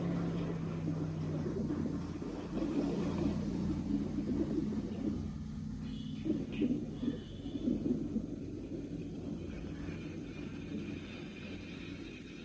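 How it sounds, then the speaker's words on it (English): Distant, continuous rumble of a SpaceX Falcon 9 rocket lifting off with the Axiom-4 crew Dragon, a broad low roar that holds steady and swells slightly throughout, with no talk. "and liftoff"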